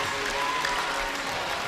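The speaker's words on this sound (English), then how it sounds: "Huge round of applause for the Saints" Steady crowd applause and cheering fills the gym after a women's college basketball team clinches the Frontier Conference Championship against Lewis-Clark, dense and continuous throughout.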